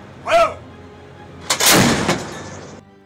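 A naval gun fires a ceremonial salute for Independence Day, a loud close blast with a rolling echo, preceded by a shouted firing command.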